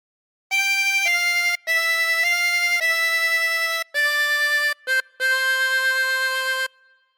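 A bright, reedy 24-hole tremolo harmonica plays a short phrase of God Defend New Zealand in sustained notes with brief breaths between them, close and clear.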